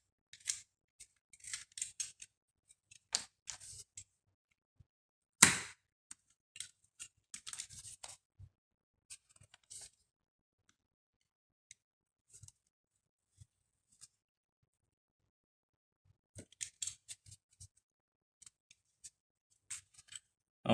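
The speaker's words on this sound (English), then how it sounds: "which you'll just cut halfway through the foam" Scissors snip halfway through 6mm craft foam in clusters of crisp, close cuts, with quiet pauses between bursts and one louder snap partway through.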